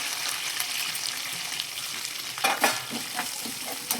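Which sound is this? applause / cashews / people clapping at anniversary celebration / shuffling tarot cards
cashews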